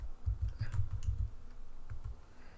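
Fingers type on a computer keyboard in a quick burst of soft, close key taps, then a few scattered clicks, with no talking.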